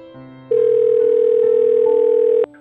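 An outgoing phone call rings through as a steady electronic tone that starts abruptly, holds for about two seconds, then cuts off. No one speaks.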